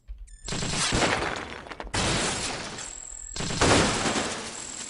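Weapon fire and explosions from the video game Cogmind: dense, loud bursts of blasts and crackling debris in three long surges with short gaps, no talk.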